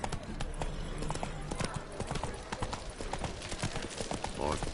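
Roach, a horse in The Witcher 3 video game, gallops with steady clip-clop hoofbeats, near and continuous, while voices talk over the top.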